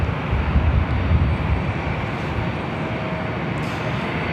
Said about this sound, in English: 1287 about to take off to Houston Intercontinental on the A319.